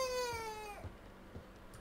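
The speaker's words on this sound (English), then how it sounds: "Oh, another cat." A cat in the video game The Baby in Yellow gives a single drawn-out, falling meow near the start, followed by quiet background sounds.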